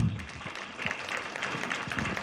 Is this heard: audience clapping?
yes